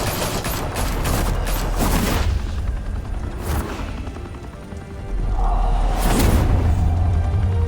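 Gunfire from a shootout in Batman: The Telltale Series in Gotham, with heavy booming bursts and loud blasts in the low end, plus rumbling impacts across the clip and sharp broadband cracks at the middle and near the end.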